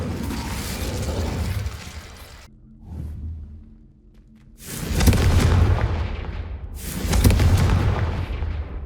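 The Incendio fire spell in Hogwarts Legacy bursts out in loud, booming whooshes of flame, two heavy blasts separated by a quieter lull, with rumbling rolling off after each.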